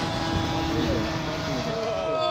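A foam RC Spitfire model warplane flies past with a steady propeller drone and shifting engine whine, fairly close and continuous, while people talk over it.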